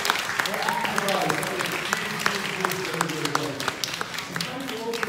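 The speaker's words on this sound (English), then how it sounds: "Can we give the three of them a huge applause?" Church congregation applauding three people after a psalm, a steady wash of clapping with some voices and musical tones mixed in, moderately loud throughout.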